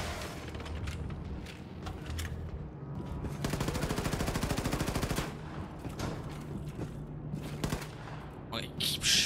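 Gunfire in the shooter Wolfenstein 2: The New Colossus, a dense rapid burst of shots in the middle under a busy game soundscape, with scattered louder bangs toward the end.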